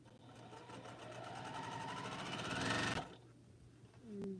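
A sewing machine stitches a straight seam on a quilt, its rapid mechanical whirr building steadily for about three seconds before stopping abruptly, followed by quiet.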